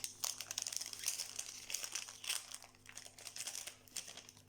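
Wrapping paper on a Christmas package being torn open and crinkled, a continuous run of close, busy rustling, crunching and ripping with no talk over it.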